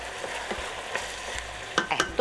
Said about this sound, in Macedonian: Додека се пропржи пиперката